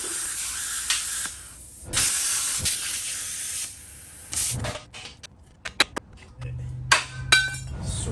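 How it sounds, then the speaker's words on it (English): Handheld plasma cutter slicing steel brackets during a solid axle swap on a third-generation Toyota 4Runner, giving bursts of harsh hissing spray separated by pauses, with metallic clinks and knocks between cuts, recorded close. "Gonna try using this plasma cutter for the first time"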